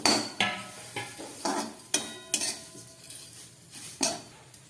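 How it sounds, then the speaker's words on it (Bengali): A utensil stirs fried vermicelli in ghee in a metal pan, scraping and clinking in about ten separate strokes with a faint sizzle beneath. The sound is close and moderately quiet, with no voices. "ঘিয়ের মধ্যে দিয়ে দিচ্ছি এই ভাজা সিমুইটা।"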